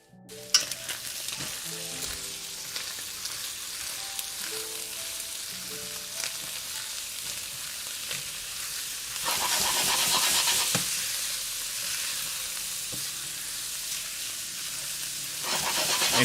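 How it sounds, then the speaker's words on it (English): Onions frying and being stirred in a cast iron pan for shepherd's pie, a steady sizzle with scraping and clinks of the spoon, growing louder and brighter midway as the onions are turned, no talking. "All right, let's give our onions a stir."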